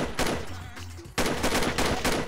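Gunfire in a shooter video game, with a dense burst of rapid shots, a brief lull, then another loud volley of fast repeated shots, with no talk.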